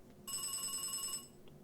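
A video game telephone rings in Beacon Pines, one bright electronic trill lasting about a second, clear and close over a quiet background, with no talking.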